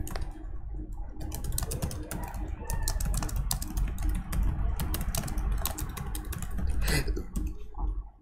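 HTML code being typed on a computer keyboard for a JavaScript web tutorial: rapid, uneven runs of close key clicks and taps that continue throughout, with short pauses between bursts.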